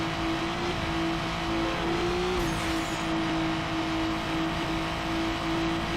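Race car in Need for Speed Underground Rivals accelerating on nitrous during a circuit race, a steady, loud engine drone with a rising whine holding throughout, with no voices.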